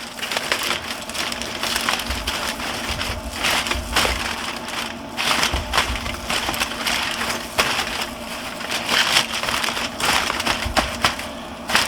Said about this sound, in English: We're going to go ahead and unwrap the ribs,